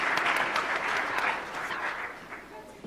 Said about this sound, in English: please give a big round of applause for our panelists, Miho, Michael,